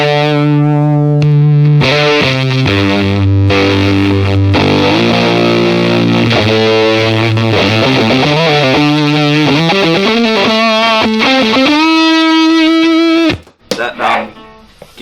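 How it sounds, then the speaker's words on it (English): A Mozztronics fuzz pedal on electric guitar, giving a thick, squelchy, distorted tone, heard loud and close through chords and sliding notes before a sustained held note and a quick cutoff. "That gives you a nice squelchy, mean fuzz sound."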